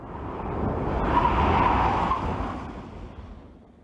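Tyres squeal on a car with an LT1 engine and 6-speed manual during a pylon test, a sustained screeching skid that swells to a peak and fades over four seconds, with engine rumble underneath.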